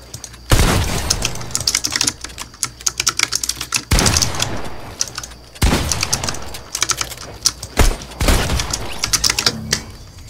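Rapid, crisp key presses on a Razer Huntsman Mini keyboard during Fortnite play, clattering in dense bursts, broken by several heavy booming in-game gunshots.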